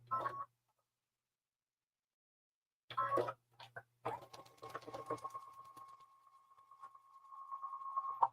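A sewing machine chain-piecing quilt block sections runs in short bursts, first two brief stitching runs separated by silence, then a longer steady hum of stitching with a faint tonal whine, fairly close and alone.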